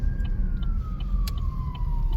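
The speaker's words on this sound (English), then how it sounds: "Here comes the ambulance." Ambulance siren on a Chicago street near Loyola, a steady wail sliding slowly downward in pitch as it passes, over loud low traffic rumble, with no talk.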